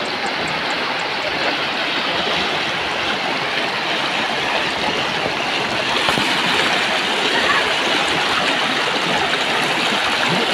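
Cold, clear water from a mountain stream rushes loudly and steadily, a constant close roar of flowing water with no talk over it.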